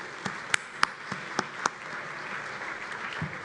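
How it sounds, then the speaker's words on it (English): Steady conference audience applause after a panel fills the space, a dense patter of many hands clapping, with a few louder individual claps standing out early on. "One more round of applause for that fantastic panel, please."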